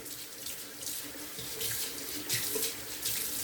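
Tap water runs steadily into a bathroom sink as it is rinsed out, a close continuous splashing rush with small shifts in the flow and no talking.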